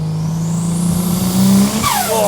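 A Nissan 240Z fitted with a GT-R six-cylinder engine revs loudly nearby, its steady engine tone swelling and then dropping off, with a sharp higher-pitched whine rising near the end and no talking.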